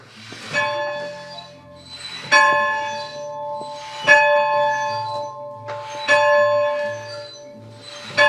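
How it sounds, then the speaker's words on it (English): A working bell in the tower of a one-room building rings out in repeated strokes about every two seconds, each bright metallic clang swelling and then fading into a lingering hum before the next strike. "which is what is called a one-room building with a bell tower. And the bell actually works."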